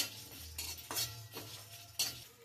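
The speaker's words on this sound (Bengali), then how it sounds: "আর একটু আমি নেড়ে চেড়ে ভালো করে ভেজে নেব।" Coriander seeds and cumin frying in a pan while being stirred, soft steady sizzling broken by several scraping strokes of a spoon against the metal, close and fairly quiet.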